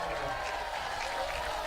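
A crowd of 1,500-plus at a Hamilton Cardinals vs Brantford Red Sox baseball game cheers a strikeout, a steady roar of voices and clapping filling the whole stretch.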